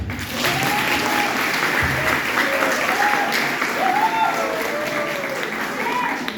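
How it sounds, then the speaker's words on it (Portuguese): An audience at a school event claps steadily, a dense continuous round of applause that rises quickly and holds, with a few voices calling out over it. "uma salva de palmas para essa mulher."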